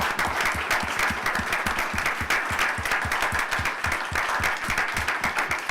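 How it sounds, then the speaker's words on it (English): An audience applauds collaborators at a talk on formative evaluation, dense steady clapping filling the room evenly throughout. "I just want to give a round of applause to our collaborators."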